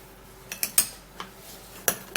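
A spoon taps against a bowl while a teaspoon of gram flour goes in for a face mask, giving several light clinks and scrapes spaced over a couple of seconds, close and fairly crisp.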